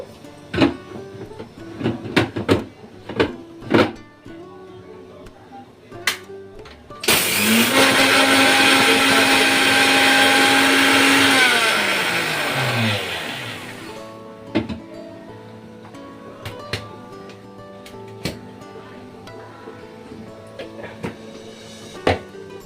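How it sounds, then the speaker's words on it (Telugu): A mixer grinder whirs loudly for about seven seconds as it grinds cooled, roasted coriander, cumin, mustard seeds and fenugreek, its motor pitch falling as it winds down, with scattered kitchen clatter before and after. "ధనియాలు జీలకర్ర ఆవాలు మెంతులు ఫ్రై చేసుకుని పెట్టుకున్నాం కదా అవి పూర్తిగా చల్లారిపోయాయి ఇప్పుడు వీటిని మిక్సీ పట్టేసుకుందాము"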